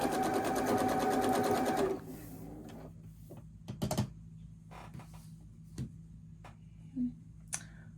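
A sewing machine stitching quilt fabric runs loud and steady for about two seconds, then stops, followed by quiet handling clicks and rustles of the cloth.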